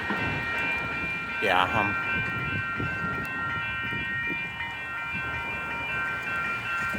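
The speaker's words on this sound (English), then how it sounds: "The train's coming." A Union Pacific 6256 manifest freight train rolls past a level crossing with lowered gates at 1st Street in Tempe, a steady loud rumble under wind, with a brief horn blast early on and a short spoken word.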